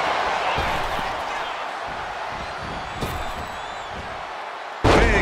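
A wrestler's splash landing in WWE 2K24 hits with a heavy thud under loud, steady arena crowd noise, followed by a sharper slam near the end.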